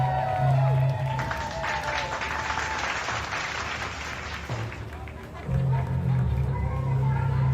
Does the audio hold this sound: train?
no